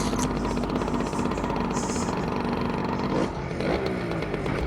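Late-1970s Puch two-stroke moped engine running close up, a loud buzzing, rattling idle with a brief rev dip and recovery near the end, no talking.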